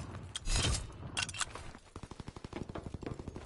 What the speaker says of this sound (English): See how instant his shots are.